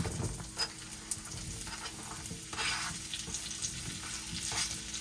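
Zucchini frying in heated oil, a soft steady sizzle with light crackles and occasional stirring scrapes, fairly quiet and close, with no talk.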